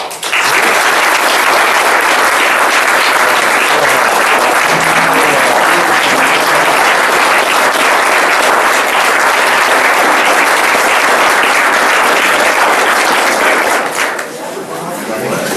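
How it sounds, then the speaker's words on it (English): Loud, sustained applause from a large audience at a public safety awards ceremony, dense steady clapping filling the room for about fourteen seconds before tapering off. "Each one of these individuals needs a round of applause too."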